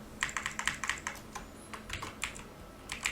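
Quick bursts of computer keyboard typing, a dozen or so crisp keystrokes in uneven clusters, close and clear with no talking, while text is entered into a Microsoft Word 2007 document.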